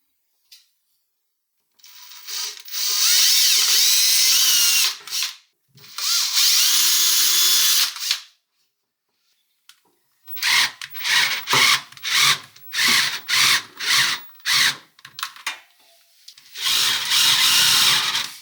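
A power drill whines loudly in long bursts, then in a series of short stuttering pulses as it bores a 1 cm deep hole, close up.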